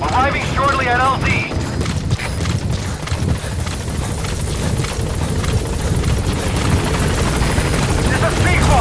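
Helicopter in Metal Gear Solid V arriving at a landing zone, its steady loud rotor thump and engine roar filling the whole stretch, with game music and a brief radio-style voice early on.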